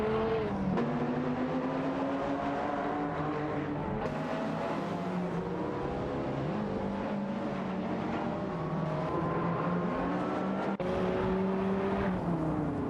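Race car engines from an AI racing video game, a Lotus Esprit and a Lamborghini Diablo VT among the field, whine steadily with overlapping pitch sweeps as cars shift gears and jostle, loud and continuous throughout.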